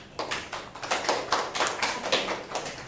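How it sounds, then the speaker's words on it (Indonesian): Students in a classroom clap together in a quick, regular rhythm of about a dozen distinct bursts, close and moderately loud, with no talking over it. "Tepuk tangan dulu."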